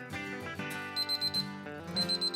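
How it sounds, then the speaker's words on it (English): A kitchen cooking timer goes off while burgers cook, sounding a run of short, evenly spaced high beeps in quick bursts over a busy background. "There's the buzzer."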